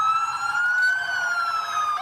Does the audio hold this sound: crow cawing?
no